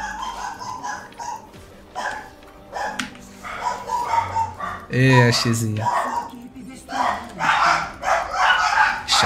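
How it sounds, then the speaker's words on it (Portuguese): Several dogs bark and yelp in a scuffle, sharp repeated barks and whimpers mixed under close conversational speech throughout. "Ixi, a cachorrada tá como ali? Tá tendo briga ali."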